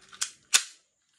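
Two sharp snapping pops in quick succession from a Tokyo Marui 1911 spring airsoft pistol firing at a target, close and crisp, with a brief decay after each and then silence.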